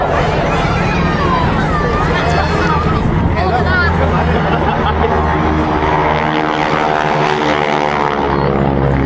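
Propeller biplanes of the Breitling wingwalking team drone loudly overhead at a seaside airshow in Sunderland, a continuous engine roar rising and fading while a commentator speaks over a crowd murmur.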